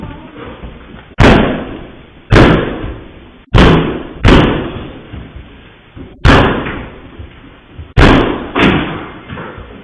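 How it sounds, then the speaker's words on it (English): Heavy doors at a podcast building are kicked and banged six times at uneven intervals. Each strike lands as a loud, booming slam that rings briefly before the next, with no talking in between. "kicking the doors in, trying to get in some way, somehow"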